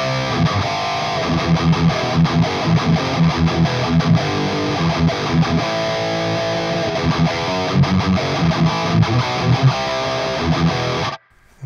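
An electric guitar plays through a Driftwood Heavy Hatchet pedal in distortion mode into an Uber Cab IR, a thick saturated riff with chugging rhythmic accents, loud and continuous until an abrupt cut at the end.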